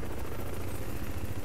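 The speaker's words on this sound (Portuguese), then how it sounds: "Ih, tem helicóptero." Helicopter in the shooter game Crysis 3, a steady low rotor drone with broadband whoosh that holds level and loud throughout, with no talk over it.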